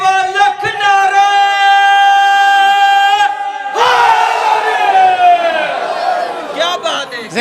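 A crowd at a Shia Muharram majlis near Sialkot roars religious slogans in unison, loud sustained chanted shouts that swell, break, then surge again with a second massed cry.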